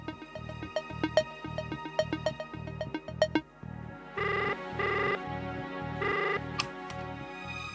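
A telephone rings in repeated electronic bursts, a steady pulsing ring pattern that shifts tone midway, fairly close and clear with no talking.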